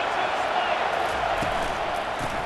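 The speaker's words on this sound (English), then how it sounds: "This crowd bringing the energy and noise early." Stadium crowd noise in EA Sports College Football 25 forms a dense, steady roar of a packed college football stadium, loud and continuous with faint thuds and cheers rising through it.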